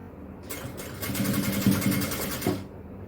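A sewing machine runs a short continuous burst stitching the shoulder seam of an XL jalabiya, a steady mechanical whir rising and settling over about two seconds with no voices.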